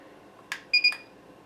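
A Thermaltake Dr. Power II power supply tester gives a couple of short, sharp electronic beeps close by, quick bright tones over faint background noise.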